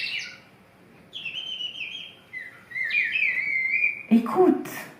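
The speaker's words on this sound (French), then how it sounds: "Et l'oiseau charme mon oreille." A bird sings in a series of clear whistled and warbling phrases, rising and falling over a soft background hiss, ending with a few louder sharp chirps.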